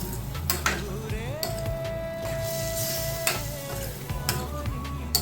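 Lemon pieces stirred in a pan with fried chili powder for lemon pickle, soft scraping and clinks of a spoon on metal over a low sizzle, with a few sharper knocks at intervals.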